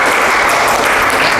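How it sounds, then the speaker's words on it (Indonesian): Classroom applause for students who just presented, a dense, steady clapping from the class filling the whole moment at close range. "Tepuk tangan dulu untuk teman kalian yang presentasi"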